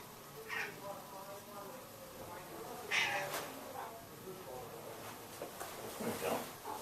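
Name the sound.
cat purring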